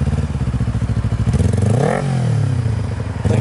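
A Kawasaki Ninja 250 with a stainless full exhaust revs up close and loud, its engine note climbing to a peak around the middle and then settling back into a steady, throaty drone.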